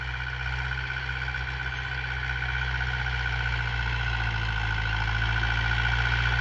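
A Mahindra tractor engine runs steadily with a deep, even drone and a constant mid-pitched whine, close and loud, growing slightly louder toward the end with no talking.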